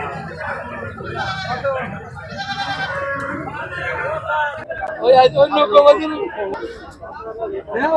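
Black Bengal goats bleat repeatedly amid a busy crowd at a goat market in Ullapara, Sirajganj, with several people talking close by over the animal calls.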